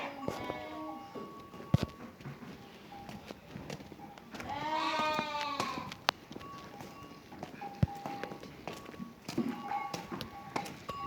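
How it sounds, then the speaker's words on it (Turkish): A Merino sheep on a farm gives one drawn-out, wavering bleat in the middle of a quiet pen, with scattered hoof steps, light shuffling and occasional knocks around it and a few soft, distant voices. "Şu koyun. Merinos."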